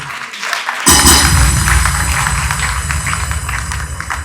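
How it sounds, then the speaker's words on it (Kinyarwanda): Applause erupts from an audience at the official launch of a film in Bujumbura, a sudden dense wash of clapping that starts abruptly and carries on steadily at full strength. "Mubamera amashyi nabo baje kudushigikira uno munsi."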